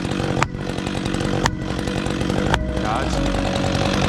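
Chainsaw cutting into a leaning tree, a loud continuous engine drone with sharp crackling breaks as the chain bites wood, someone talking over it.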